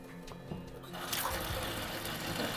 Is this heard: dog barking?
no